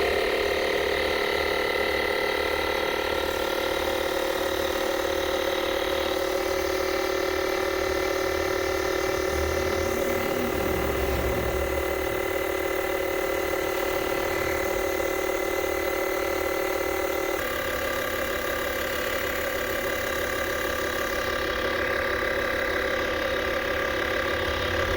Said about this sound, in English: We're gonna see how long it takes to pump this tire from 24 psi all the way up to 60.